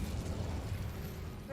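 A fire spell cast in the video game Hogwarts Legacy, heard as a steady low roaring whoosh of flame with crackling rumble that holds at even loudness throughout, with no talking.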